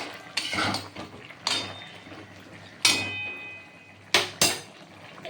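A metal pot lid is lifted and handled on a pot of vegetarian drumstick (sajne data) vegetable curry, giving five sharp metallic clanks spread out, the last two close together, with quiet kitchen background between.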